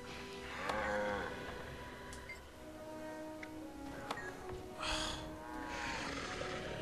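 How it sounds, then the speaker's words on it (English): A cow in the video game Guild Wars 2 lets out drawn-out moos, a couple of separate calls over a faint, steady background hum, with no talking. "Okay, I'm gonna deal with the depressed cow."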